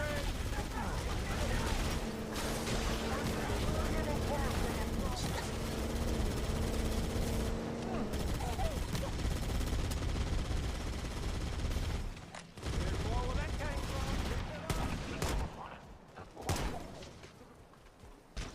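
Gunfire in the Halo video game: sustained rapid automatic fire with a mechanical whine underneath. The firing eases and breaks up toward the end, with a voice talking briefly in places.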